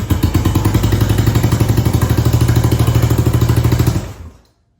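A 50-year-old abandoned motorcycle engine runs loud and close with a fast, steady, pulsing putter for about four seconds, then abruptly dies away into silence.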